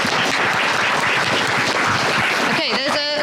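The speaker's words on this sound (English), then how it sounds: "Can we give Graham a huge round of applause, please?" A crowd applauds, a dense wash of clapping throughout, with a brief vocal sound near the end.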